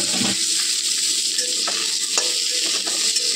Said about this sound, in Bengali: আলুগুলো একটু কোনো রকম করে ভাজা হবে